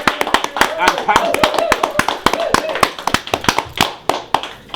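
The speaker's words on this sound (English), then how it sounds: "Ladies and gentlemen, give him a round of applause" An audience claps in a steady burst of applause at a live interview event, dense and close, with a voice speaking over the clapping.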